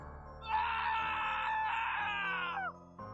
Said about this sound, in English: a horrible, blood-curdling scream.